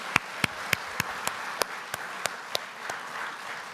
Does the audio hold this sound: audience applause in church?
yes